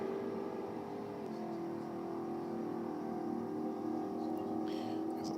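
Drag race between a nitrous-assisted Holden six-cylinder and a Holden 5-litre V8 ute: steady, loud engine drone holds throughout, stepping slightly in pitch partway through.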